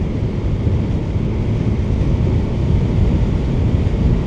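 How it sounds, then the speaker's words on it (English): A steady, loud roar of wind buffeting the rider mixes with engine drone while riding a Honda VFR1200 motorcycle, continuous and unchanging with no talking. "they'll let me analyse the wind noise and the bike noise and all that stuff"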